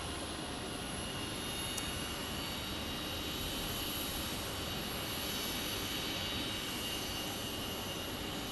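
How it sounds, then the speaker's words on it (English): A Southwest Airlines Boeing 737-700 jet at Phoenix Sky Harbor International Airport, heard as a faint, distant, steady engine rumble and hiss with no voices. "Southwest Airlines 737-700."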